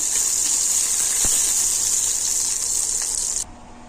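Karonda berries are rinsed in water, a steady rushing gush of running or poured water with faint splashes, close and continuous before abruptly stopping near the end.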